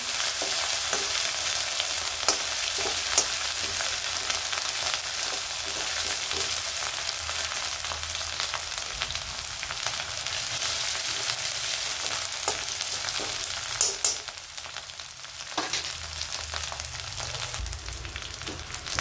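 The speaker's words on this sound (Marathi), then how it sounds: "ठेच्याला आपण चांगलं परतून घेऊ।" Green chili thecha paste sautéing in a pan: a continuous close sizzle with frequent scraping stir strokes and small spatters over about twenty seconds, with no voices.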